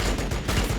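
Rapid gunfire from the strategy video game Battlesector, a dense burst of overlapping shots and booms lasting under a second, loud and continuous with no pauses.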